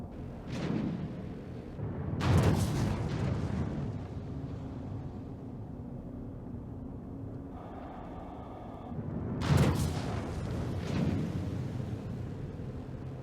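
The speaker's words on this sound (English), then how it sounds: "And the huge cannon." A huge cannon on the Ares star fighter fires in a space video game, two booming blasts several seconds apart over a steady engine-like hum, with a brief electronic tone between them.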